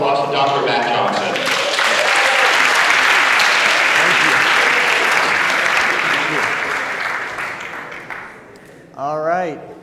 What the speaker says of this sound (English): please give a very warm round of applause to Dr. Matt Johnson